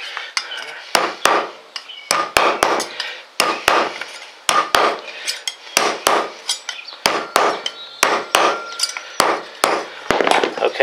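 Rapid hammer blows flatten Ford Expedition center hub caps set on a wood block, sharp close clanks with a metallic ring coming in quick irregular bursts of two or three strikes, steady and loud throughout.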